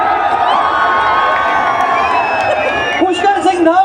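A stadium crowd at a Noida cultural festival cheers and hoots for the Chief Minister in a loud, continuous roar of mixed voices, with shrill whoops rising near the end.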